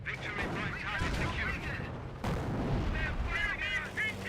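Rapid bursts of aircraft strafing gunfire and distant booms in the World War II strategy game Company of Heroes, a dense continuous barrage with a sharp break midway, clattering on without pause.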